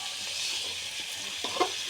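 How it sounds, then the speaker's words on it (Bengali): Mutton and potato pieces stir-fried in a pan, a dense close sizzle with light scraping and a few soft knocks as they are turned, steady and without talk. "মিশে নেবো আলুটা মাংস আর কষে নেবো আলু দিয়ে।"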